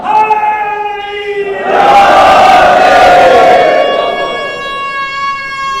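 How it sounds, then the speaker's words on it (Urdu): A large gathering at an imambargah in Surat roars back a collective chant answering a religious slogan, swelling loud for a few seconds, while a sustained, tonal voice or cry sits before and after the surge. "مل کر نعرے کا جواب دے"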